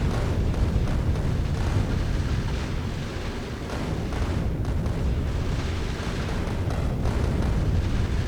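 Rocket launchers fire in the factory game Factorio, producing a dense, continuous rumble of booms and blasts that stays loud and steady throughout, with no voices.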